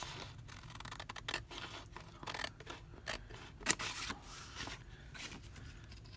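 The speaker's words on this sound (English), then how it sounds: "I cut up the center here to the edge of the frame, cut along the edge of the frame here" Scissors cut through a paper envelope in quick, close snips and slicing rasps in an irregular rhythm, quiet, with no talking.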